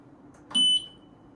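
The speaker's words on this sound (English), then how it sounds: "Oh, now she's beeping." A single short electronic beep, high-pitched and steady, sounds once against a quiet room background.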